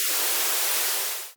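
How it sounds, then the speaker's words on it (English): Steady hiss of broadband white noise, loud and continuous, cutting off abruptly at the end. "some kind of white noise can be heard"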